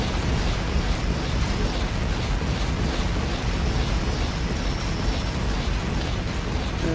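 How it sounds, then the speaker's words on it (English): Bombs explode in rapid succession in Factorio, a dense continuous roar of blasts and rumble that stays loud and unbroken from start to end. "Trying to kill them as they're running by bombing them."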